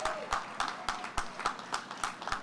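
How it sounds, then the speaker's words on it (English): Audience clapping for new homeowners at a Bahamian home handover ceremony: steady, evenly spaced claps in a regular rhythm, moderately loud, over faint background voices. "Give them a round of applause."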